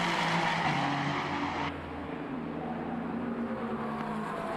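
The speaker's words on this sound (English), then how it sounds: "the K-Tunes Racing Ferrari. Working its way through the final corner, flashing past my commentary box and off down the hill." The K-Tunes Racing Ferrari race car flashes past through the final corner at Suzuka, a loud, near engine roar that cuts off sharply and then fades to a distant drone with some tire squeal.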